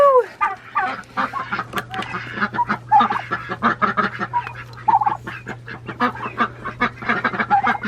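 Ducks honk and quack in a steady, busy stream of calls, close and fairly loud over a low constant hum, with a turkey among the farmyard fowl.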